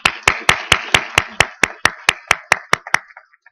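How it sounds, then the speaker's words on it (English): An audience claps for five presenters at a digital health event. The sound comes as a run of about fourteen sharp, evenly spaced claps, loud and near, that fade toward the end. "Let's give a round of applause to all 5."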